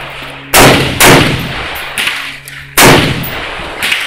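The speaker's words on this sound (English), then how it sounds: "Make sure it's 2 seconds in between your shots." AK-47 rifle shots at an outdoor range, four loud, sharp cracks spaced about a second or two apart, each followed by a short echoing tail, with no talking.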